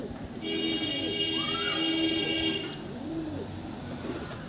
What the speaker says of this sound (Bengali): এটা কালো দানার ম্যাট্রাস পায়রা, নর পায়রা